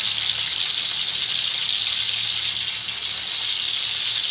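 Marinated chicken boti coated in onion, garlic and ginger paste hisses and sizzles steadily on a hot oiled tawa, a dense, even frying crackle with no talking.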